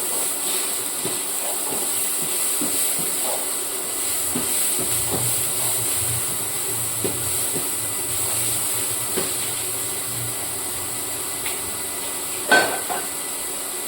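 Onion softens in a hot pan, giving a continuous close hiss and sizzle at an even level with a few faint clicks of movement, and one brief sharper knock near the end.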